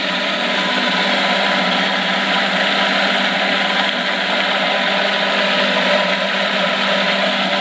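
A micro hydro turbine runs with its small water jet wide open and a larger jet partly open, giving a loud, close, unbroken whirring drone with steady tonal hum and no talk.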